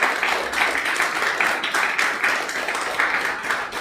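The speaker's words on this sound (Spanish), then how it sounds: "fuerte el aplauso" A church congregation breaks into strong, continuous applause, dense clapping that swells in slight waves and fills the room from start to finish.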